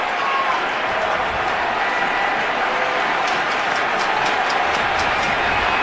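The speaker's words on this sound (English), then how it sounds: "the crowd, starting to rise and get loud at Yankee Stadium" A steady, loud roar from the crowd at Yankee Stadium during ALDS Game 4 between the Blue Jays and the Yankees, a continuous wash of cheering and clapping that holds for several seconds.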